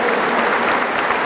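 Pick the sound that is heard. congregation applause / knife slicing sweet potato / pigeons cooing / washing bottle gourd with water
congregation applause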